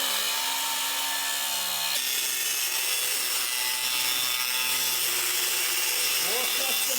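A steel strap bar bracket for a hydraulic assist steering setup is cut down by a quarter inch, giving a steady, loud machine whine and grinding rasp with a brief break near two seconds, and some faint voice in the background.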